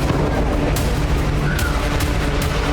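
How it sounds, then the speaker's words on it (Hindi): Strikes hit residential buildings during the Israel–Hezbollah war, a loud, dense roar of explosions with a few sharp cracks breaking through the continuous rumble. "जोरदार धमाकों के साथ उठता आग का गुबार।"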